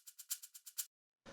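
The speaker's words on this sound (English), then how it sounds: "the next thing we have here is this first shaker, which sounds like this" Programmed shaker pattern from a deep, melodic dance track: seven crisp, bright hits in an even quick rhythm, a short silence, then a brief duller burst, faint and isolated.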